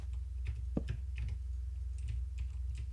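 Computer keyboard keys clatter in quick irregular bursts, loud and close, over a low steady electrical hum with no voices.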